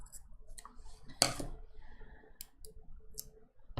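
Scissors cutting planner paper at an angle, one sharp close snip followed by faint clicks and light handling noises in a quiet room, no talking.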